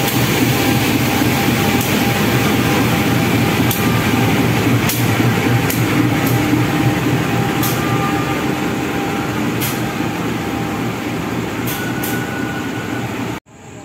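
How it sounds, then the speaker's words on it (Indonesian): Locomotive CC203-9510 couples to the Kahuripan passenger train at an Indonesian station: a loud, steady mechanical rumble with several sharp metallic clanks scattered throughout, cutting off abruptly at the end. "kita lihat proses penyambungan lokomotif ke kereta Kahuripan."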